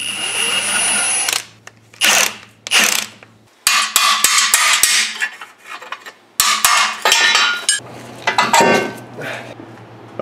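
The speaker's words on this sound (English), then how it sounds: "We're gonna take the torque arm off" Bolts being removed from a torque arm on a third-generation Chevrolet Camaro, with bursts of power-tool whirring and sharp metal clanks and clinks, close and loud, separated by brief quiet gaps.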